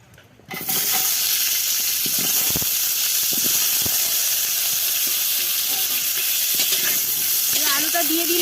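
Oil in a kadai, heating for cooking, breaks into a loud, steady sizzling hiss after a quiet opening moment, with a few faint clinks over the continuous frying noise.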